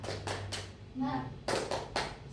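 A classroom group doing the 'tepuk semangat' ice-breaker clap, several sharp rhythmic clap bursts in a patterned sequence with a voice heard between them.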